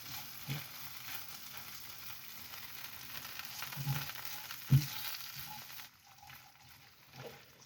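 Garlic and ginger fry with a steady sizzle in a pan, with a few soft knocks and stirring clicks, fairly quiet and close, no voices.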